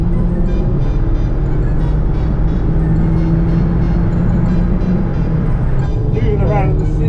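A Golf GTI scrap-to-track project car is driven hard on a circuit, a constant loud engine drone and road roar filling the cabin while someone talks over it.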